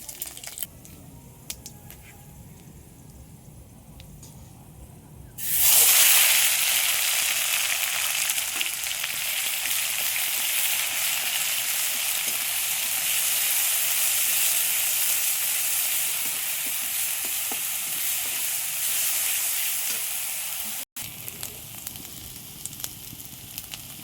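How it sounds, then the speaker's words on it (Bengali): Spices sautéing in a pan for a potato and egg curry, bursting into a loud, steady sizzle after a few quiet seconds, holding strong and close for about fifteen seconds before stopping abruptly. "মশলা কষানো হয়ে গিয়েছে"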